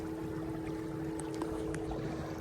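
A skiff's outboard motor runs at half throttle, a steady low droning hum with water and wind noise around it, constant and fairly close.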